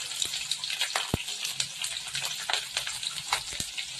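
Green chilies crackle and sizzle in hot oil with urad and chana dal that are turning reddish, a steady close frying hiss broken by sharp pops and spits, with no talking.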